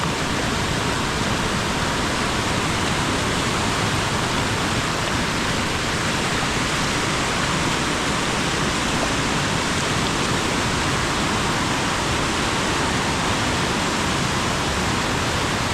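Heavy monsoon rain and a flooded river in the Konkan countryside near Khed, Ratnagiri, merge into one loud, unbroken roar of rushing water that stays dense and even throughout.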